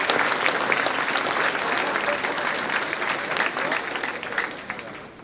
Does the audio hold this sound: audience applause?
yes